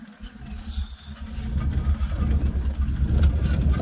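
A car idles outside a church, about to reverse on a rain-damaged road; its engine gives a steady, close low rumble that grows slightly stronger and rougher toward the end, with no one speaking.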